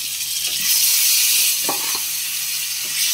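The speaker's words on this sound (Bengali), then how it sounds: "আলুটাকে ভেজে নেব।" Potatoes fry in hot mustard oil in a pan, giving a bright, steady hiss with a few soft knocks and stirring sounds, heard up close without any speech.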